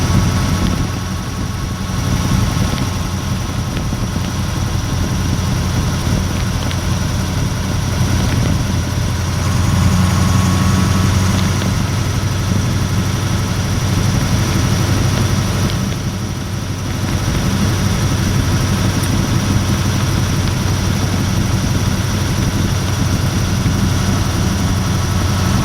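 A Leyland Mastiff truck's Perkins V8 540ci diesel engine drones steadily from inside the cab, a loud, continuous low rumble with a faint mid-range whine that stays constant throughout, with no voices.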